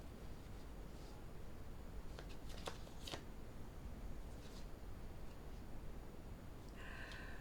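Tarot cards are shuffled and drawn during a card reading, with soft papery riffles and a few sharp flicks over a steady background hiss, and no voices.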